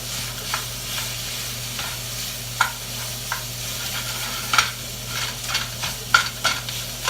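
Ground beef seasoned with salt and pepper browning in a hot pan, giving a steady crackling sizzle broken by sharp scrapes and pokes of a utensil stirring the meat, close by with no talking.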